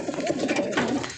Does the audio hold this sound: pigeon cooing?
yes